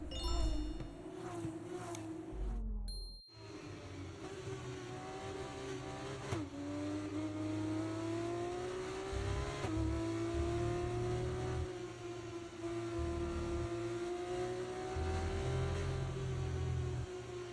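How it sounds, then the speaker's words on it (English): Formula 2 race cars in the F1 24 video game run a formation lap. Engine notes rise and fall steadily as the car accelerates through gears, and a brief cut sits near the start. "The formation lap gets underway for this, the Formula 2 race"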